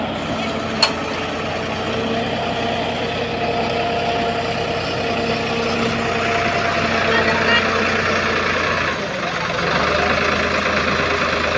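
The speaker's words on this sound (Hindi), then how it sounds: "अब फिर ये वाला ट्रैक्टर लेके आ गए।" A tractor engine idles with a continuous low rumble and vibration on a muddy field during cultivation, holding steady throughout with a brief dip near the end, one sharp click early on.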